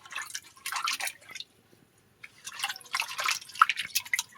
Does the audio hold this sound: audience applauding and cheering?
no